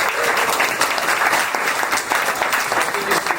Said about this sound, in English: So can we just give one more round of applause to everybody?